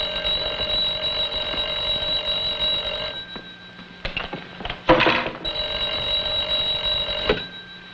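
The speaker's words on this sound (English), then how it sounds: "Kovac, answer the phone." An old-fashioned telephone bell rings in steady, loud bursts, cut off briefly by a few knocks and thuds before ringing again.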